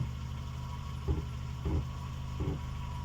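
A car idles steadily in the cab during a driving lesson, a low engine drone with three soft thumps of handling or clutch in a row, and no speech over it.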